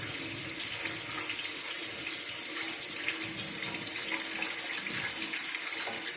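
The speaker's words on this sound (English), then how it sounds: "rinse it with cold water" Cold water running from a kitchen tap into a sink, a steady, close hiss and splash that continues evenly for several seconds without speech.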